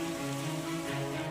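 Rain pours steadily over rural villages in Meghraj taluka, Aravalli district, Gujarat, a constant dense hiss without a break, along with a low steady hum, and nobody speaking.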